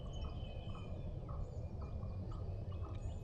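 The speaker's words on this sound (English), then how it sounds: "They gobbled probably at least about 6 times each." Wild turkeys gobble far off in open country, several brief rattling calls repeating across a quiet outdoor background.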